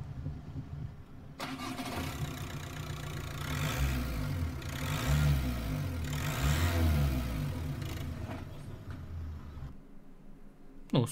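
A 131-horsepower car engine with ASZ engine code, a 2005 former taxi from Italy, revs up and down in repeated swells over a steady running drone, loud and close, with no talking.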